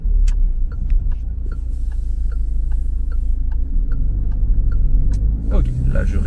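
A car engine rumbles steadily from inside the cabin as the driver speeds back up after a right turn, a low continuous drone with faint clicks ticking regularly over it while a voice talks.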